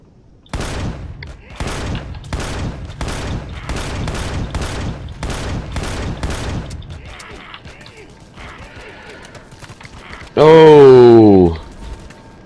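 Ships in Empyrion Galactic Survival fire heavy guns in a steady rhythm of loud, booming shots. A quieter mechanical rumble follows, then a final loud burst with a rising, warbling tone. Someone talks briefly.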